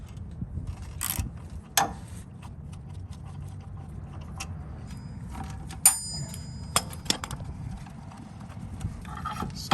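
A 1/2 inch ratchet and socket loosen the 14mm caliper slide pin bolts on a 100 Series Land Cruiser / LX470 rear axle, scattered sharp metallic clicks and clanks over a low shop hum.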